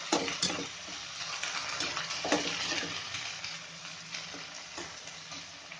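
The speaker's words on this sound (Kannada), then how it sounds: "ಟೊಮೆಟೊ ಕೂಡ ಒಂದು ಸ್ವಲ್ಪ ಫ್ರೈ ಆಗಬೇಕಾಗುತ್ತೆ" Tomatoes fry in a pan for vangibath gojju with a soft steady sizzle, broken by intermittent stirring scrapes and clinks. The sound is close and moderate, with no voices.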